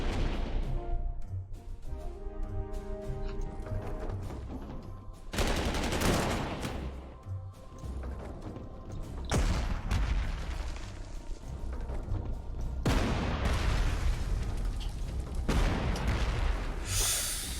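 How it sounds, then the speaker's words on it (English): Heavy 15-inch artillery fire in Panzer Corps 2, a run of loud booming blasts and rumbling explosions in dense bursts, alone without talk. "Oh, that 15-inch artillery. So good."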